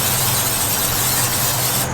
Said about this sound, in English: Now we're gonna spray these molds